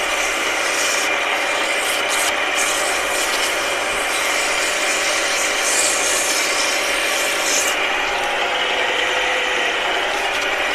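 Abrasive paper rubs against a spinning wooden honey dipper on a lathe after skew cutting, making a steady, loud, continuous rasping hiss with faint periodic scratchy pulses and no voices throughout.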